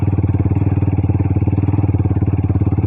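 A sports bike ridden along a bay walk in Catbalogan City puts out a loud, steady, rapidly pulsing engine drone, close up and continuous, with no talking.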